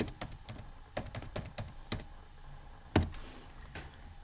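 Keys clatter on a computer keyboard as a home network password is typed, a close, irregular run of crisp taps with short pauses and one louder strike.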